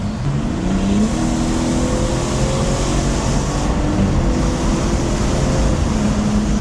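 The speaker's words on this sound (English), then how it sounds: "I do love the turbo noises" A modified BMW 440i turbocharged inline-six, mufflers still fitted, roars steadily from inside the car, with rising and falling turbo whines layered over a constant rumbling drone.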